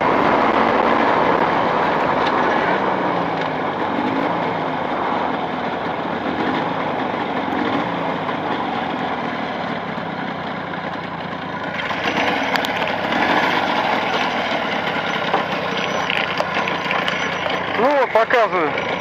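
A small two-stroke engine with Chinese cylinders idles steadily during break-in in +40 degree heat, a continuous rough running drone. Near the end it rises briefly and unevenly, and someone talks over it throughout.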